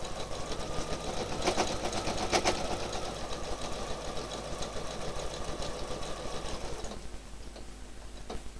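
A sewing machine steadily stitches in the ditch of a quilted seam with a close, continuous rhythmic whir and light ticking, easing off toward the end as it slows.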